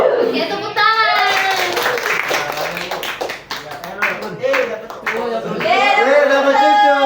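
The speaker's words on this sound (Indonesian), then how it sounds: "Oke, tepuk tangan." Children clap their hands in rhythmic bursts while young voices chant and talk loudly close by.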